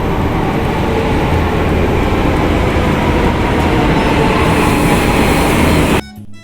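A Delhi Metro train pulling into a station, a loud sustained rumble and whine of wheels and motors close by, running steadily before cutting off suddenly.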